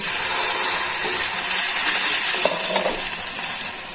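Spice paste for a garlic and dried chepa shutki bhorta sizzles loudly in a pan as broth is added, giving a close, steady hiss with light stirring scrapes and a few small clinks.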